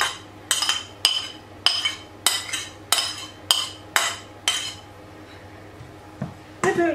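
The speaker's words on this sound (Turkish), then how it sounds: "Böyle karıştırıyorum." A spoon mixes tuna into pizza sauce in a bowl. Eight or nine crisp metallic clinks and scrapes come at a steady, near-regular pace, then a short pause and a last couple of knocks. All of it is close and clear.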